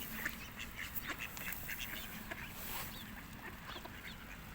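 A flock of ducks quacking busily together while being fed grain, with pigeons nearby, many overlapping calls in a noisy outdoor setting with no talking.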